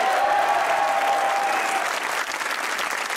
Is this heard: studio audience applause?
yes